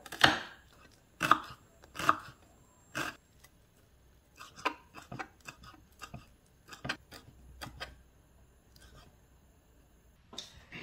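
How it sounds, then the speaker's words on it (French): A knife chops through shallots on a board in a series of sharp, crisp strikes, a few loud early hits followed by lighter, quicker irregular taps, close up with no talking. "Je commence à émincer échalotes"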